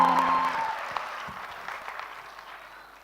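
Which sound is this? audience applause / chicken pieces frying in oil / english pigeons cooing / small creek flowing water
audience applause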